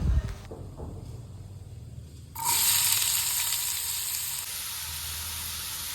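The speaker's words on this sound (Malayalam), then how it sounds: "നമുക്ക് മറ്റൊരു പാത്രത്തിൽ ഉള്ളി വഴറ്റിയെടുക്കാം" Onions sauté in a pan, a quiet clatter and low background first, then a sudden hissing sizzle bursts in as they hit hot oil and settles into a steady, close frying sound.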